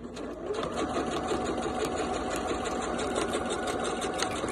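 Sewing machine stitching a denim pencil case, a steady close whirring hum with rapid needle clatter running unbroken throughout.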